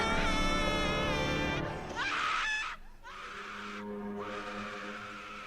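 A woman gives a high, piercing scream in a studio, a deliberate imitation that sounds strong at first, then breaks into shorter, quieter wailing cries.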